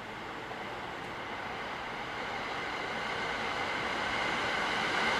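A local train arriving at Yono station in Japan, a broad continuous rumble and rail roar that slowly grows louder as it approaches, with no voices over it.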